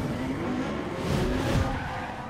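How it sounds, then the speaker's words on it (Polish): A Mercedes C63 AMG in The Crew racing game, its exhaust roaring steadily with tire squeal and skidding mixed in, loud and continuous with no talk. "ten wydech jest konkretny, bez kitu"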